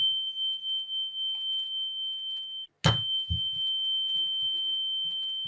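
Root chakra tuning chime struck once, a pure sustained tone ringing steadily with soft knocks and faint handling noises around it, and a sharp strike midway that briefly cuts and restarts the tone.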